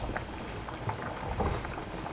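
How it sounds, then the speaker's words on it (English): Potatoes boil in a pot of water, with a soft, steady bubbling and irregular small pops and gurgles heard up close. "I'm gonna start by boiling the potatoes and getting those ready to go."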